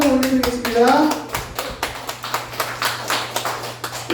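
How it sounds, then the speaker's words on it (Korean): A church congregation in a Korean service gives the students warm applause. A voice is heard at first, then dense, steady hand clapping fills the room and carries on to the end. "우리 학생들에게 뜨거운 박수 한번 올려드리겠습니다"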